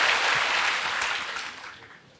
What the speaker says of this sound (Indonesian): mari kasih tepuk tangan sekali lagi buat Allah kita